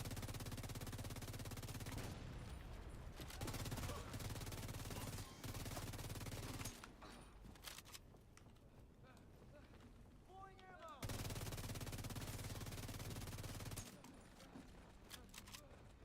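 Bursts of light machine gun fire in a multiplayer shooter video game, loud sustained volleys stopping and starting, with quieter gaps between them.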